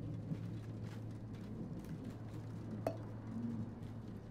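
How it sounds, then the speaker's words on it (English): Thunder from a storm in the video game Twelve Minutes rumbles low and steady beneath a constant background hum, with a faint sharp tick partway through. "Oh, thunder. I wasn't expecting a storm tonight."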